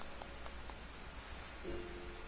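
Steady soft hiss of rain falling on a shoreline in the video game Final Fantasy XIV, a continuous even patter at low level with no talk.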